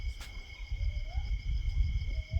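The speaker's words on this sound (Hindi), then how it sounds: "देखो उल्लू बोल रहा है, एक मिनट।" An owl in the Jim Corbett forest at night gives two faint rising hoots against a constant bed of insect chirring and a low rumble.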